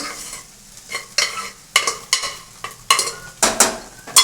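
A spatula scrapes and stirs sizzling food in a wok while cooking egg curry, with sharp, rhythmic strokes about every half second over a low frying hiss and no voices.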